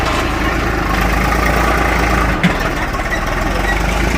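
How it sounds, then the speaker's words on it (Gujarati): A tractor engine runs in a farm field, a steady loud mechanical rumble throughout with a slight bump partway through and no break in the sound. "ટ્રેક્ટર ચલાવે છે ખેતરમાં"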